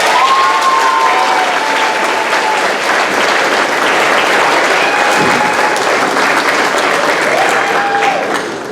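Loud, sustained audience applause at a 5th grade elementary school graduation, a dense wall of clapping with a few faint voices and whoops above it, continuing steadily before easing slightly at the end.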